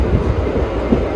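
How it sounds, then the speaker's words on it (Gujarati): A moving passenger train heard from inside the coach gives a loud, steady low rumble with soft rhythmic thumps from the wheels. "ભાઈ લાઈવ રૂપથી જોઈ લો ટ્રેન ચાલુ છે"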